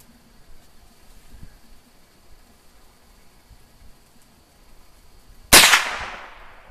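A single .22 Long Rifle shot cracks sharply near the end, loud and close, with a short fading tail after a quiet outdoor stretch.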